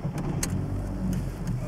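An old Volkswagen Golf over 20 years old running after starting, a steady low engine rumble close by, continuous and moderately loud with a few faint clicks on top, no voices.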